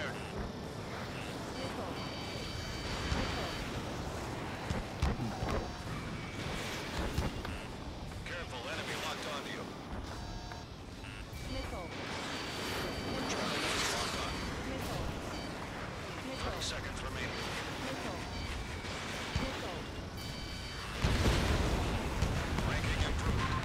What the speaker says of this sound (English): Charlie 1, missile fire